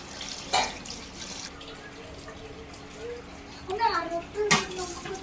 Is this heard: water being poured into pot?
yes